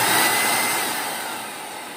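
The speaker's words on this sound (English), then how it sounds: "the vacuum turns on, it actually sucks air down" A vacuum former's suction switches on while making dental whitening trays, a loud steady rushing whoosh of air that holds on and slowly eases slightly, with no talk.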